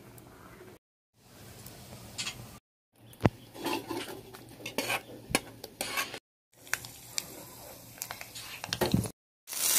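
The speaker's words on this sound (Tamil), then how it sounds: "ஆஃப் பண்ணிட்டு சர்விங் பவுலுக்கு மாற்றிக்கலாம்." Pineapple puli cheri curry is spooned from the cooking pot into a serving bowl, with soft scraping, clinks of a spoon against metal and faint sizzling in short bursts broken by brief silences.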